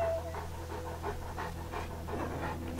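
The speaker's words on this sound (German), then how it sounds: "Und jetzt hecheln sie alle vor sich hin." Several dogs panting in the Wasteland 2 video game, a steady rapid rhythmic huffing that carries on throughout over a constant low hum, with no talk.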